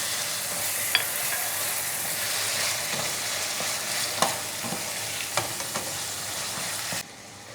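Chopped tomatoes, two large ones, go into a pan of browned onions for chicken masala kabab, giving a steady, bright sizzle with a few soft clicks of the spoon before it cuts off near the end.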